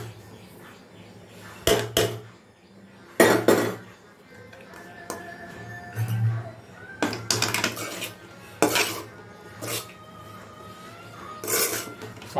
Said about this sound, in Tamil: சாதம் போட்டு மிக்ஸ் பண்ணுற பாருங்கள்